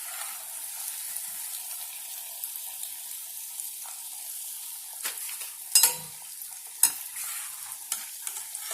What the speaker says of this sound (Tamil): இப்போ பாருங்க, பஜ்ஜி வந்து நல்லா வெந்த உடனே அதுவே மேலே வந்துச்சு பாருங்க.